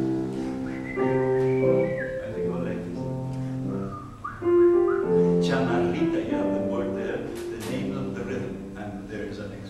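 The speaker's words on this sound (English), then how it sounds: "Usually people whistle it." A person whistles a chamarrita melody, a lively folk tune in clear sustained notes that step up and down in a bouncing rhythm, close and prominent, with a short break midway.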